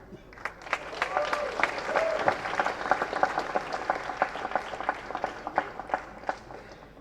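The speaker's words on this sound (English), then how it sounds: "That's an applause that's coming to him decades later" An audience applauds during a comedy speech at a film first-look launch event, with a dense, sustained burst of clapping from a large crowd that carries on for several seconds.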